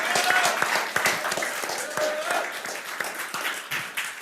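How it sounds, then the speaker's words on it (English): A small audience at a Sunday talk claps in a brief round of applause, with scattered, uneven hand claps at moderate volume and a voice speaking underneath. "We owe you a round of applause."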